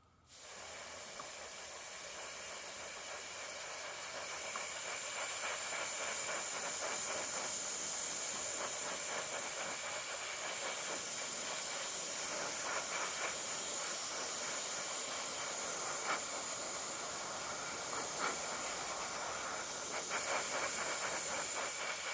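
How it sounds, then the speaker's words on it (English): An aerosol spray can hisses in a long, steady, close-up burst with slight pulsing over about twenty seconds, painting a 1/72 scale Airfix De Havilland Vampire T.11 plastic model kit, with no talk. "we'll give this a spray and see what it looks like"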